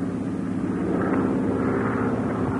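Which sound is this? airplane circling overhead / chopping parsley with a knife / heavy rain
airplane circling overhead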